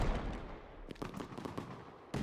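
Fireworks exploding in the video game Fireworks Mania, a quick series of sharp cracking bangs, fairly faint, with a louder burst at the end.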